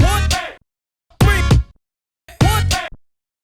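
A DJ beat-juggling with a record, the fader cutting out every other beat so three short loud bursts of music play with near-silent gaps between them, in an even on-off rhythm.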